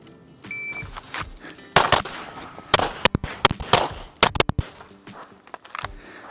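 Pistol shots ring out during a USPSA practical shooting stage on the range, a loud, close, irregular string of sharp cracks spread over several seconds with brief pauses between pairs, alone without talk.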